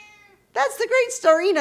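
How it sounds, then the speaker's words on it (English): A pet cat gives a few short, close meows right after a brief spoken line, the calls rising and falling in pitch. "If you hear my kitty in the background"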